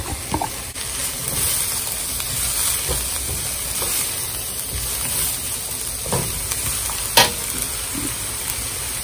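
Chopped onion sizzles in a hot pan for Chinese-style fried rice with chicken, a steady frying hiss broken by a few sharp scrapes and taps of a utensil stirring close by.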